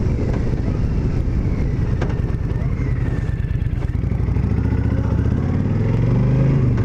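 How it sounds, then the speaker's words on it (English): A Honda VTX 1300 motorcycle engine rumbles steadily while riding, with heavy wind rush over the microphone and a rising rev toward the end. "even after 12 years, the VTX 1300 is still a joy to ride"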